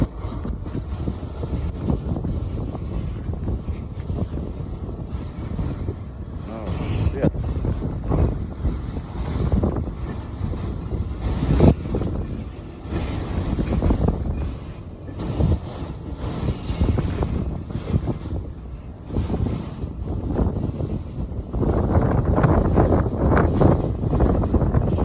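Steady wind buffeting a microphone beside a railway line at Lake Avenue in Blasdell, New York, on a gusty afternoon, a loud continuous low roar with surging gusts and no talk.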